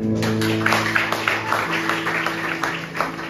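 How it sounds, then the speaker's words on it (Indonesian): Church congregation applauding during a sermon, a dense, steady patter of many hands clapping at moderate distance over sustained organ or keyboard tones, with a few louder claps standing out. "Berikan tepuk tangan."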